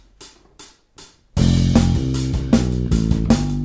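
Bass guitar plays the first main hook from a song, the riff behind the first verse, opening with a few soft plucked notes, then a loud, driving line of punchy repeated notes.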